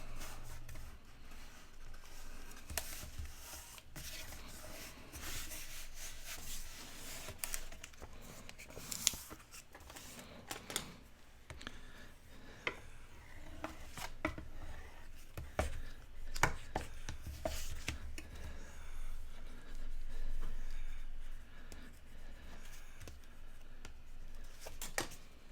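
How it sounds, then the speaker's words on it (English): Backing being pulled off score tape and the strip folded over while making a double-spine mini album cover, a faint close run of papery crackles, peels and taps at an uneven pace, with no talking. "pull the backing off of your score tape on one side and fold that over"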